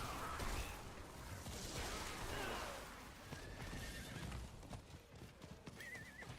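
A horse in the Diablo game whinnies and gallops, with clear clip-clop hoofbeats and loud neighs over a busy game soundscape, and a brief whooshing effect.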